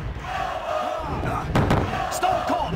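Arena crowd noise from the Dreamcast wrestling game WWF Attitude roars as a steady synthetic wash of cheering, punctuated by a sharp slam-like thump midway and another hit near the end, loud and close.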